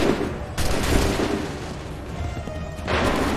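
Soldiers fire a musket volley in the video game Assassin's Creed 3, heard as loud overlapping booms and crackling shots in a dense burst, with a second swell of gunfire arriving near the end and no voices.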